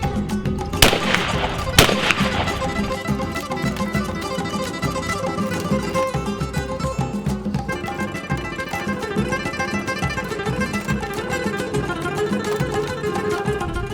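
A 20 gauge shotgun fires a reloaded Fiocchi steel hull: two sharp, loud reports sound close together near the start, followed by a continuous, busy tonal background with no clear voice.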